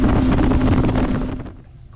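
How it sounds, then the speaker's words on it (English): Wind gusts over a lake by boat docks, buffeting the microphone with a broad rumbling roar that eases off near the end. "the flags are already blowing, and I think we're gonna have a little bit of wind"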